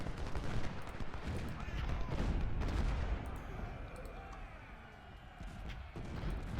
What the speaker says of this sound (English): There's a lot coming at me, especially artillery.